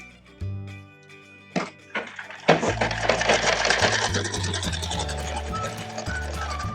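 Sewing machine stitching along a folded blouse hem, starting with a few thunks and short bursts before settling into a continuous close, rhythmic whirring run, no talking.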